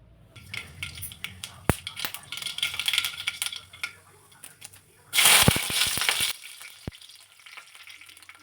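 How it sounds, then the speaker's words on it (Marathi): Mustard seeds hit hot oil in a kadai with a crackling sizzle and scattered sharp pops. A louder, denser burst of frying flares up midway, then settles back to a light spatter. "तेल तापलं की त्यामध्ये मोहरी घातली"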